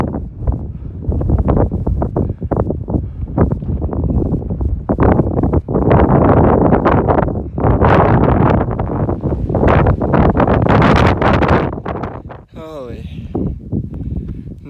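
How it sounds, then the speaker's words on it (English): Wind buffets the microphone on a cloudy White Mountains summit on the Appalachian Trail, loud, gusty and rumbling for most of the stretch, with a brief lull near the end. "It's pretty windy"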